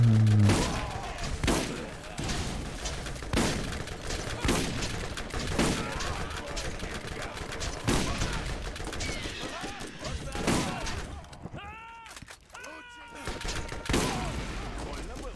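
Shotgun blasts in the Borderlands video game, a series of sharp, loud reports spaced a second or two apart, ringing out over in-game creature noises and scuffling.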